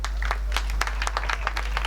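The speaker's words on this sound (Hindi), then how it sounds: "भैया मन पर जोरदार ताली बजा दो" Applause from an audience at a Chhattisgarhi bhakti stage program, a scattered burst of claps with sharp individual hits, moderately close, over a steady low hum.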